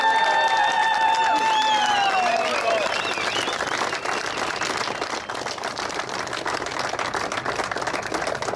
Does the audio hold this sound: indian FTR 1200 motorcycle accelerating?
no